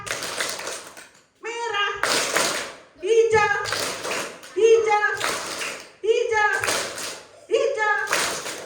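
A group of schoolchildren clap together in a call-and-response clapping game at an Indonesian elementary school, with loud bursts of unison clapping alternating with an adult calling out commands and children's voices.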